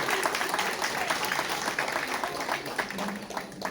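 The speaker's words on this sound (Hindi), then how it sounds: "प्लीज एक बार जोरदार तालियां हो जाए।" An audience at a childhood cancer day celebration in a Noida hospital claps loudly in a dense, continuous round, with a voice briefly audible beneath the applause.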